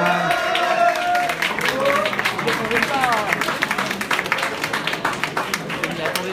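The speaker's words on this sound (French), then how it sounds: "Allez-y, applaudissez encore." Audience applause at a publisher's live announcement panel, continuous clapping mixed with crowd voices and cheering for about six seconds, fairly loud and close.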